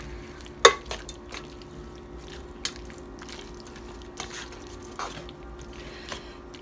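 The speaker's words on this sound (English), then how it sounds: "Mix that in there." Food being stirred with sauce mixed in, heard as soft scraping and squishing with a few sharp utensil clicks and taps against the pan at irregular moments, close and fairly quiet.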